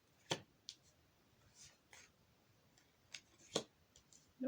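Tarot cards laid out one by one on a table, a handful of faint, sharp slaps and soft scrapes spaced irregularly in a quiet room.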